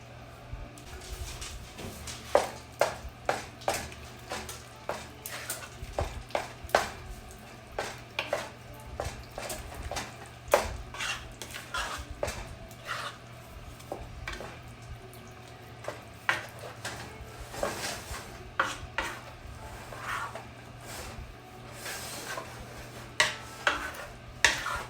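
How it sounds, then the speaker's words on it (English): Spoon scraping and clinking against a pan while stirring a shrimp and rutabaga mixture for a keto cheese bake, a series of sharp irregular knocks over a low steady hum, with no talking. "Add the Rutabaga, then add shrimp mixture and stir."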